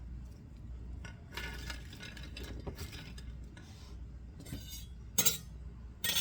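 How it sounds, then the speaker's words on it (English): Asparagus salad with radishes and croutons is tossed in a bowl, producing soft irregular rustling and squishing bursts punctuated by a few close clinks of a utensil against the bowl, with quiet gaps between. "I'm going to sort of mix this up right now"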